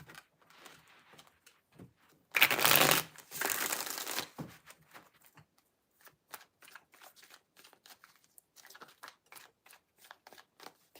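A single close burst of tarot cards being shuffled, lasting about two seconds, followed by quieter tapping and handling of the deck.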